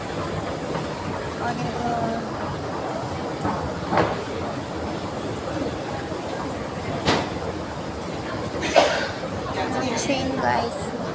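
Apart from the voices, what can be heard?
MRT train at Ion Orchard station, Singapore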